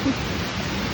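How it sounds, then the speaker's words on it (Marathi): Heavy rain pours steadily in a dense forest along a trek to a waterfall, a broad, even hiss of falling water that is fairly loud and unbroken, with no clear talking. "पाऊस आला मोठा."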